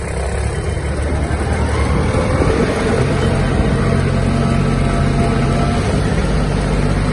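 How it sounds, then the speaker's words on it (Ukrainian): A Kubota GB-18 Japanese mini tractor drives along with its engine running as a loud, steady drone and a rumbling low end, close to the listener. "перевіримо, як трактор буде поводити себе на ходу"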